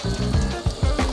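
Cubed potatoes sizzle in butter and oil in a pot over a campfire, a steady close crackle with rhythmic bursts of stirring or scraping.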